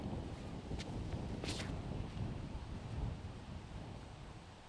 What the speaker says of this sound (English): the way this wind's been swirling, this is one that can really get away from you